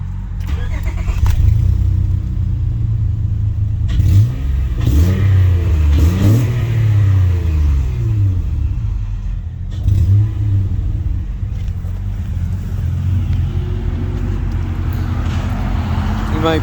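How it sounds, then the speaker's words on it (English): A stock car engine fires up and revs through a quiet exhaust that still has its catalytic converters, rising and falling in several loud close revs before settling, with someone talking over it. "I'll give you a little fire up, a little exhaust lesson."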